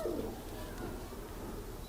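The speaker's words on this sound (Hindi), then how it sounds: "देखें, ये कबूतर है" A pet pigeon from a breeding pair kept by a fancier gives a soft, low coo, faint and brief against background hum, with no clear talk over it.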